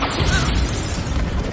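Bombarda explosion spell in the Hogwarts Legacy video game: a brief, loud, dense booming burst with continuous rumbling roar throughout.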